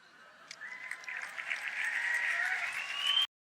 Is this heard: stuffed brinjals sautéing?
no